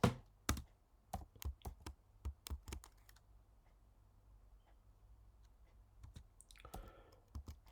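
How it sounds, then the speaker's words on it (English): A computer keyboard being typed on in short bursts of crisp clicks, a quick cluster at the start, a pause of sparse taps, then faster rattling keystrokes toward the end. "what we can do, that we can type nmap"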